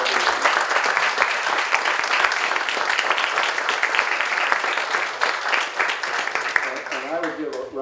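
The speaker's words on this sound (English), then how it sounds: "Let's have another round of applause." Sustained audience applause at a gun-and-society forum, dense steady clapping throughout at full level, with a voice beginning to speak over it near the end.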